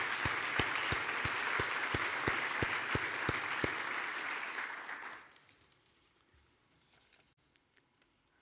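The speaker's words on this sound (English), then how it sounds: "So can we just give them a round of applause?" Applause from a conference audience at an oil and gas event in Namibia, a steady dense crowd clapping with a few sharp nearby claps that fades out after about five seconds into quiet room tone.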